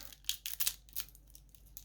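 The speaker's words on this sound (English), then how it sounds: "I'm again going to give these a go with some scissors just to get them started." Scissors snip and tear into the plastic packaging of a Pokemon Base Set theme deck, giving quiet, close bursts of crisp cutting and crinkling at an uneven pace over a low steady hum.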